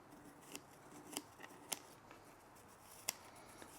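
Small scissors snipping the roots at the bottom of a mame bonsai as it is repotted into a tray, heard as a few sparse, sharp clicks at close range against a quiet background.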